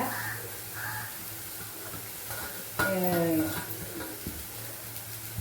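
Carrot, capsicum and curry leaves sautéing in a pan for millet kozhukattai: a steady close sizzle with a spoon scraping and clattering against the metal, and a crow cawing faintly in the background.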